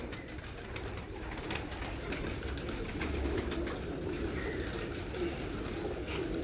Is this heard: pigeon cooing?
yes